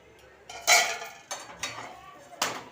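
Metal lid lifted off a frying pan of banana malpua cooking on low heat: a bright clank near the start, then a few lighter metallic taps and clinks close by.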